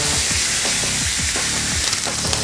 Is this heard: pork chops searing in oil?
yes